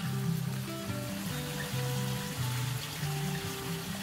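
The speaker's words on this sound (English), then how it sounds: "Now the water is coming out." Water pours steadily from a 10-gallon cooler rigged as a live bait tank, a continuous close splashing and trickling with no voices.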